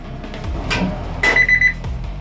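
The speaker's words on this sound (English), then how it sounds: "I didn't shut the alarm part off on that" A Smoke X4 grill thermometer beeps loudly and close in a quick run of repeated electronic tones after some handling noise, by a pellet grill cooking porterhouse steak.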